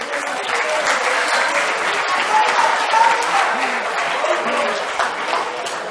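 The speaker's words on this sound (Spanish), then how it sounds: "un fuerte aplauso a Raúl." A live audience gives a volunteer loud, sustained applause, a thick wash of many hands that stays full throughout, with faint voices underneath.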